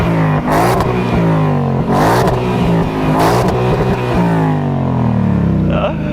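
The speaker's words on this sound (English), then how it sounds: "So go and rev it up all the way." A loud 2022 Ford Mustang Mach 1 V8 engine revs hard several times in a row, each rise climbing to a roaring peak before dropping back, close and powerful.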